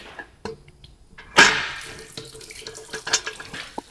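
Old coolant drains from a 1961 Ford pickup engine during a rebuild, splashing and trickling like a running tap, with a sudden stronger gush partway through and irregular drips and spatters after.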